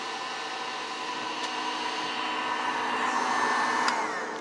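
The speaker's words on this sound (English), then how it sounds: "Let me stop the heat gun." Heat gun blowing hot air with a steady, close whirring roar and a whiny motor tone, swelling slightly louder midway, with two faint clicks and no voices.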